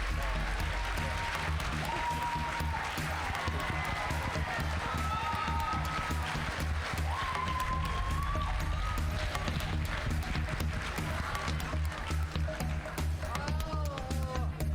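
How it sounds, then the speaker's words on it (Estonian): An audience in a hall applauds at a student show's award announcement: steady, dense clapping fills the whole stretch, with voices and some music-like tones mixed in underneath. "Aplaus!"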